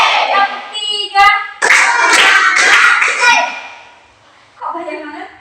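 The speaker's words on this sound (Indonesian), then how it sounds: "Tepuk satu. Tepuk dua. Tepuk tiga." Classroom group clapping game, with children's voices and sharp bursts of many hands clapping together in short rhythmic sets between chanted counts, loud and close, with a quiet lull before more voices resume.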